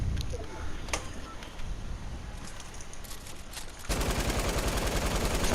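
Rapid gunfire from a video game fight rattles nearby in dense, steady bursts, the shooting growing harsher and louder for the final stretch.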